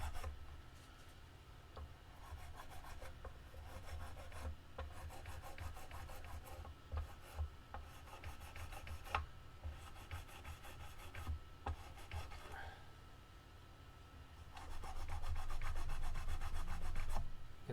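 Guitar frets on a Kramer Focus being sanded with abrasive grit, a quiet close rasping scrub in quick repeated strokes, steady back-and-forth with a brief pause and a slightly louder stretch near the end.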